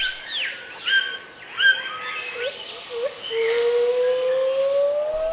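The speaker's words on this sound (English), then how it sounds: "Another bird is joining in. He's trying to sing louder than the other bird. It's a toucan with a lovely bright beak." A toucan calls loudly in the rainforest among other birds, several sharp chirping calls up front followed by a long rising whistle-like note, set against a busy jungle chorus.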